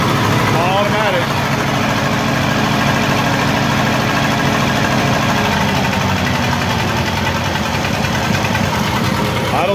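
A Lincoln SA200 welder's engine idles steadily at close range, a loud, continuous low rumble with a constant drone throughout.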